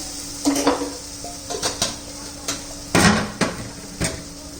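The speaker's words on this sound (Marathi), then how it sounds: "चांगलं परतून घेऊया पण थोडीशी काश्मीरी कलर येण्यासाठी काश्मीरी लाल मिरची पावडर घातली आहे" Masala with Kashmiri red chili powder being sautéed and stirred in a pan: irregular metallic clinks and scrapes of a spoon against the pan, about a dozen distinct knocks over a faint sizzle.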